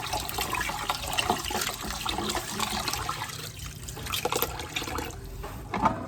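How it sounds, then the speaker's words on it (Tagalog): Rice being washed by hand in water in a home kitchen in the Philippines, a steady wet swishing and trickling with small splashes, close and continuous, no voices. "3 times mo raw huhugasan yung bigas"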